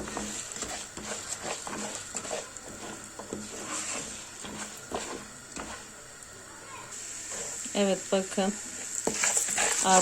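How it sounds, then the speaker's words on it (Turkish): Beans and other ingredients are fried in hot oil and stirred, producing a constant sizzle with scraping and clattering utensil strokes that turn louder and more rhythmic near the end. A faint voice may sit under the sizzle. "şimdi hepsini yağın içinde kavuruyorum"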